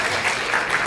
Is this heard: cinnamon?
no